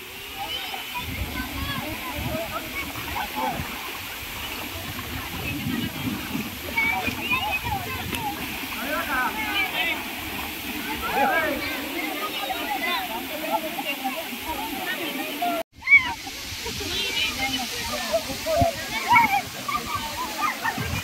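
Nanemachi waterfall near Mahad pours down with a steady rushing and splashing of water that fills the background, while people talk and shout nearby and a brief knock interrupts near the end.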